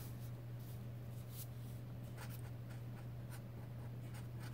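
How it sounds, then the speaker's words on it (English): A marker scratches steadily across the edges of a paper butterfly, giving faint, close, soft strokes with a few brief sharper swipes over a low background hum. "I'm not too concerned that I'm coloring too much into the butterfly"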